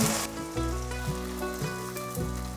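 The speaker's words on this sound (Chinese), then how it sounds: "让它再继续慢慢煎" Tofu slowly pan-frying gives a soft, even sizzle that runs steadily beneath prominent background music, with no one speaking.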